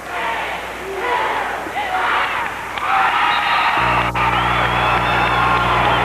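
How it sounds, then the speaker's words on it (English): Wrestling arena crowd at a 1992 Kansas 119-pound match, loud and continuous, chanting and cheering together through the closing seconds, swelling louder near the end. "as it looks like Jensen's going to count it down with a crowd. You can hear it, 5 seconds to go"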